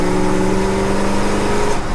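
Engine of a 50-year-old farm truck revving hard as the back end spins, a loud close sustained roar with a steady droning tone, no voices.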